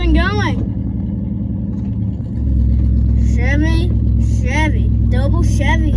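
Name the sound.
1982 Chevy square body truck running and driving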